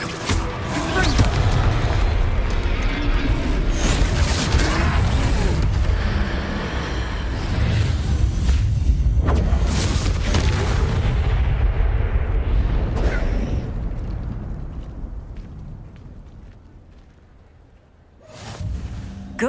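Confringo fire spells explode in Hogwarts Legacy during a troll fight, a dense run of loud booming blasts and bursts that fills most of the stretch, easing near the end before one last hit.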